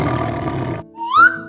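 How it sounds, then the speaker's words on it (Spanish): A tiger's roar from a children's animal-sounds song: a short, rough, loud burst, followed after a brief gap by a higher rising cry. "Es un tigre."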